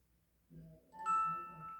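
A short chirp notification tone from a Samsung Galaxy Watch 7 sounds alone, a brief rising electronic trill of bright tones that rings on and fades gently.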